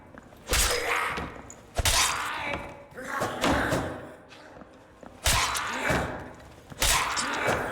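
Combat against a massive goblin swarm in the dungeon game Dark and Darker, with repeated heavy weapon impacts and shattering crashes in bursts about every second or so, loud and close.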